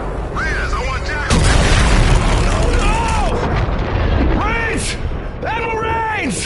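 Heavy explosions from weapons fire in Call of Duty: Infinite Warfare, deep booming blasts rumbling on loudly under urgent voices talking over radio, with rising electronic whine tones sweeping through the din.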